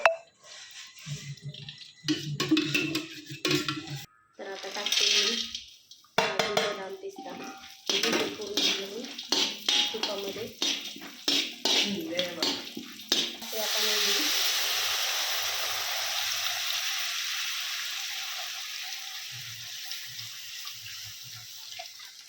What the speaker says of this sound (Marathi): मी ठेवलेली आहे कढई गरम करायला आता मी यामध्ये टाकते तूप